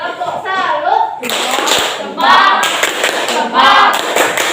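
A class of children performs a rhythmic 'tepuk salut' clap, with bursts of group clapping interleaved with children's voices chanting along, close and loud.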